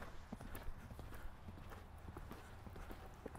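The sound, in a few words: horse hooves clip-clopping while being ridden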